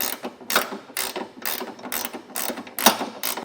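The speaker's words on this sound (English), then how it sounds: "I have a 19mm wrench here, and just gonna get this tightened down" A 19mm wrench tightens a bolt on a Curt trailer hitch receiver under a 2024 Toyota RAV4, producing repeated close ratcheting clicks in regular strokes.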